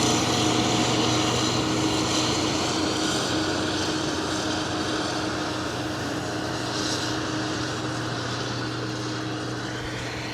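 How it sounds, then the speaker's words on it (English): A combine harvester idles steadily while its unload auger slowly empties dry beans, a continuous loud engine drone with a whirring hum that holds level throughout, with no voices. "idles this combine down so the unload auger isn't turning fast"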